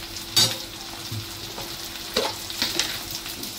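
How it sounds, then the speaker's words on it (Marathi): Onion and coriander sautéing in a pan, with soft frying sizzle and a few brief stirring scrapes, close and moderately quiet, no talking. "गुलाबी रंगावर परतून घ्यायचा। थोडी ती मी कोथिंबीर टाकली,"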